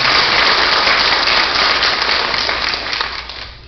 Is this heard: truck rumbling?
no